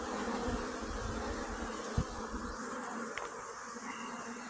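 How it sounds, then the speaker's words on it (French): Honeybees flying around beehives in an apiary, a continuous buzzing swarm hum, fairly faint, with a brief clunk partway through and no speech. "Ça vole. C'est beau un rucher en vie."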